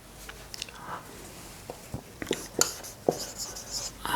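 Pen scratching across paper as a question is written out by hand, faint intermittent strokes and taps in a quiet room.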